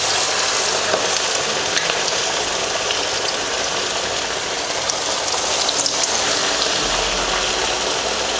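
Fish fries in oil with a loud, dense and continuous crackling sizzle that holds steady throughout, close-up and unbroken by voices.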